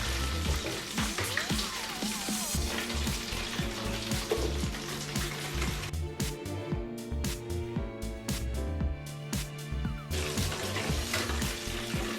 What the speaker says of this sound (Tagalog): So double fry natin yung ating chicken.